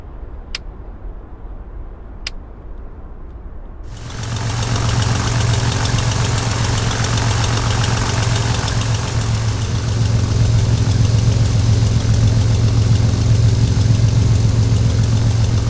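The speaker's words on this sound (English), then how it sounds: "I'm quite surprised that this engine has quite a throaty sound to it and gives it a bit of character" Turbocharged piston engine of the Carenado SR22 GTSX Turbo aircraft in X-Plane 11 starts after a couple of clicks and settles into a loud, steady, throaty drone with a low hum that runs without pause.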